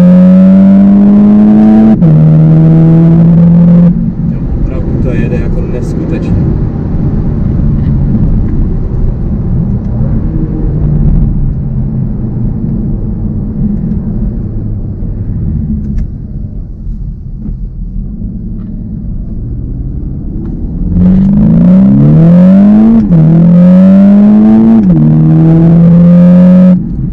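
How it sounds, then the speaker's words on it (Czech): A VW T-Roc R with 300 hp and an Akrapovič exhaust revs hard, the engine note rising in loud pulls at the start and end with a quieter rumbling stretch between, and no talk. "s tím Akrapovičem, protože ten má fakt jako super zvuk, super zvuk"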